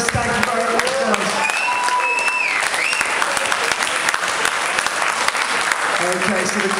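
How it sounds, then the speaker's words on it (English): A dance competition crowd applauds the finalists of a partner-dance championship, loud dense clapping filling the hall throughout, with whoops and cheers rising above it. "you get yourselves a break and a round of applause"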